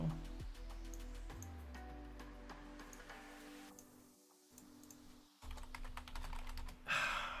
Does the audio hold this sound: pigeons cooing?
no